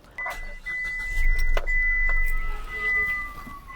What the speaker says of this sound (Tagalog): Ngayon, i-start natin to para makita nyo mga kapatid na naayos na itong Hyundai i10 na to.